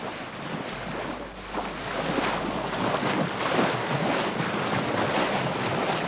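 Boat crossing the open sea on a spearfishing trip, with a steady rush of waves and hull spray mixed with wind buffeting the microphone, continuous and fairly loud throughout.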